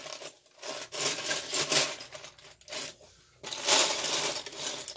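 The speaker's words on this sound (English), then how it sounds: "Yep, lots of Lego noise." Plastic Lego bricks rattle and clatter as a hand rummages through a pile searching for a jumper plate, a steady close clicking jumble with brief pauses.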